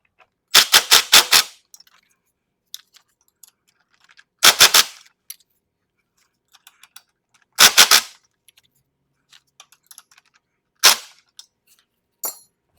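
Rear driveshaft bolts, 12 mm, come off the differential of a Toyota AE86 as sharp rattling tool bursts, four separate bursts spaced a few seconds apart with faint clinks in between, loud and close in a quiet space.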